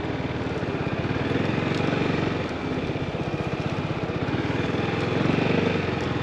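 A motorcycle engine runs at low speed close by while a learner rider weaves through cones, holding the throttle steady and dragging the rear brake. The pulsing putter is constant, and nobody speaks.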